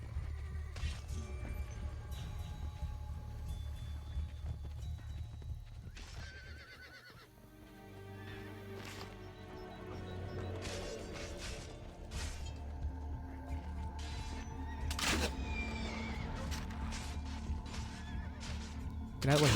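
Horse neighing and clip-clopping hooves in the Assassin's Creed Brotherhood video game, mixed with dense game ambience, scattered crashes and a voice talking over the action.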